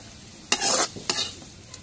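Greens (shak) frying in a pan are stirred with two quick, close scraping strokes over a soft sizzle, then a fainter tap at the end; no voices.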